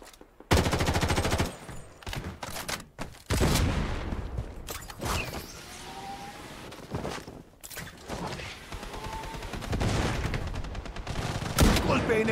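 Rapid bursts of gunfire from the video game Blood Strike, including shotgun blasts, come in loud clustered volleys separated by brief pauses.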